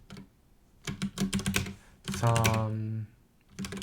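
Quick typing on a computer keyboard, rattling in fast bursts with someone talking in between and over the keystrokes.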